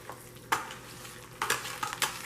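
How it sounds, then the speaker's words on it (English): A whisk stirs pumpkin cheesecake muffin batter in a Tupperware bowl, making soft wet swishes and a few sharper clinks against the side, with no talking. "just gonna whisk it together"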